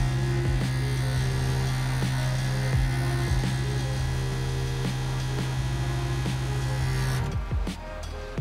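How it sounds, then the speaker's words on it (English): An Epson DTF powder applicator for T-shirt transfer printing runs with a steady electrical hum and buzz, a faint rhythmic mechanical clicking at regular intervals, and a change in tone and a few clunks near the end. "This machine is gonna apply the right amount of the melting powder and it removes it."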